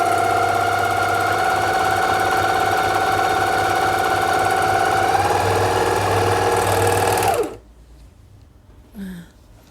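Freya 854 overlock serger running steadily with a dense mechanical hum and rapid stitching rattle, close and loud, then stopping abruptly near the end, leaving near silence with a brief faint sound.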